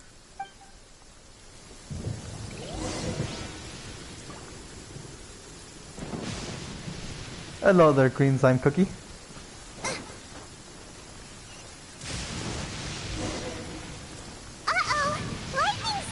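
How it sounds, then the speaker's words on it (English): Thunderstorm in the game Genshin Impact: steady rain hiss with several deep rolling thunder rumbles, heard alongside bursts of character voices and game sounds. "Uh-oh! Lightning storm!"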